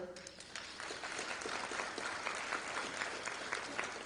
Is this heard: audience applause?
yes